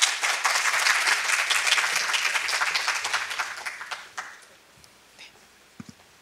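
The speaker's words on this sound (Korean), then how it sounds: "다시 한번 박수의 말씀 드리겠습니다" Audience applause at a university graduate school entrance ceremony: dense, steady clapping from a seated crowd for about four seconds, then tapering into a few scattered claps and silence.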